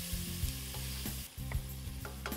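Garlic added to onions frying in a pan, giving a steady loud sizzle with brief stirring scrapes and a short dip in the middle.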